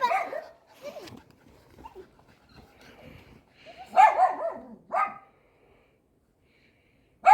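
A dog gives a few short barks and yips with soft whimpers between them, nearby and moderately loud, mixed with quiet movement sounds in an outdoor setting.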